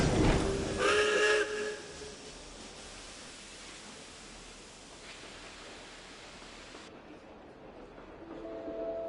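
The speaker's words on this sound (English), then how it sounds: "Welcome to Snezhnaya train station, the biggest transport hub in the nation" Train arriving at Snezhnaya station in Genshin Impact, with a loud whistle blast at the start, then a steady rolling hiss that cuts off, followed by a faint tonal chime near the end.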